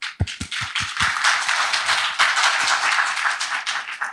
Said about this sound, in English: Please join me a round of applause for that